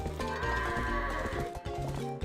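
Goats bleat and low during the goat-herding task in the video game Twilight Princess, mixed with loud, continuous in-game music.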